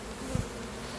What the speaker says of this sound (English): we've got just a hand brush to brush the bees into the box